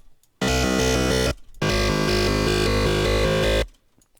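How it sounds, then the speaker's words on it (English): A time-stretched sample run through a speech-type stretching algorithm, giving a dense, buzzing glitch texture with its own rhythm; two loud sustained bursts separated by a short gap, with no talking. "simply if you time stretch something with the speech or mono algorithms"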